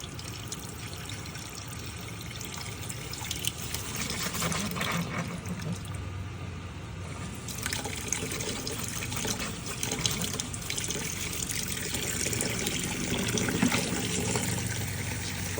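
Pink RV antifreeze gushes steadily from an open valve during RV winterizing, a continuous rushing, splashing flow that stays fairly loud and close throughout, with no voices.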